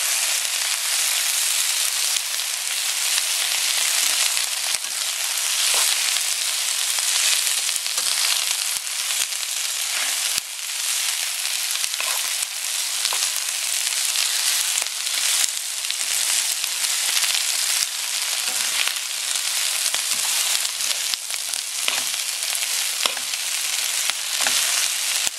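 Vegetables for yakisoba noodles stir-fry in a hot pan, a steady loud sizzle running unbroken throughout, with occasional scrapes and clicks of stirring over the hiss.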